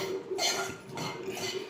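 A spoon mixing vangi bath, a spiced eggplant mixture, into cooked rice in a pan, giving a couple of close scraping and clinking strokes.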